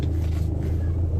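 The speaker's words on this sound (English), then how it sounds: "So I'm just out for a drive with Dorothy" A Morris Minor driving along an English road, heard from inside as a steady low engine and road rumble, continuous and close.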